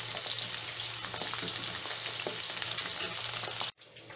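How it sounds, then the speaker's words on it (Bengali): Chopped onions frying in hot oil for chilli chicken gravy, a loud, dense, continuous sizzle with faint stirring crackles, cutting off abruptly near the end. "তেলের মধ্যে কেটে রাখা পেঁয়াজগুলো ফ্রাই করছি।"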